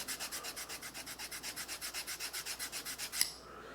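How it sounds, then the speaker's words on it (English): Eraser rubbed back and forth over a thin carbon steel Opinel knife blade to lift rust, about twenty even, quick strokes, close and soft, ending with a small tap, with no talking. "basically just rubbing down the blade. Using moderate pressure."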